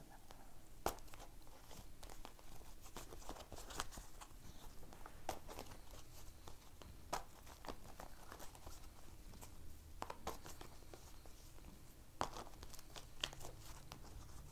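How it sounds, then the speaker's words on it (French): A deck of tarot-style cards being reshuffled by hand, quiet papery riffles and crinkly slaps in irregular bursts, soft and close in a still room. "Je rebrasse encore mes cartes."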